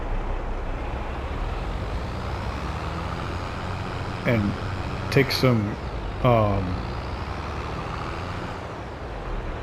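Truck engine idling and rumbling in Farming Simulator 22, a low steady drone under someone talking briefly in the middle.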